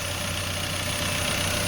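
A low-mileage Ford SportKa engine idles steadily, a close, even mid-to-low mechanical hum with a faint ticking texture and no voices.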